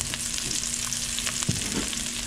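Garlic, lemongrass and onion frying in a pan, giving a dense, steady, close sizzle with a few spatters and one stirring knock partway through.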